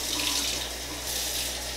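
Warm tap water runs from a kitchen faucet into a measuring cup, a steady close splashing rush with no pauses.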